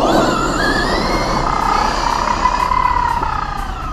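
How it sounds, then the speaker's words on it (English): A Traxxas Slash VXL 2WD RC car with Hot Racing 18/56 gears doing a speed run on 2S, a loud high electric whine that climbs and falls, with the tyres rubbing as a steady rough rush beneath it. "You can hear the tyres rubbing."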